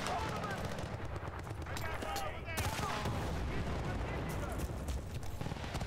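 Rapid bursts of automatic machine gun fire in Battlefield: Bad Company 2, dense crackling shots rolling continuously with mechanical clatter and a voice speaking underneath.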